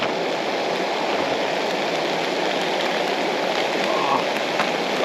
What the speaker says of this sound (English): Oh, come on, rain, stop.